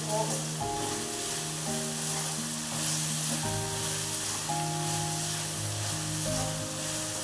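Chopped vegetables fry in oil in a pan for hotel-style vegetable upma, giving a steady, close sizzle that runs throughout beneath sustained musical tones.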